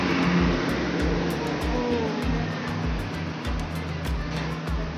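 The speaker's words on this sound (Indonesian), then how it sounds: "Ada bis" A bus rumbles past nearby near Pangandaran beach, with its engine droning loudly and steadily over the whole passage alongside other road noise.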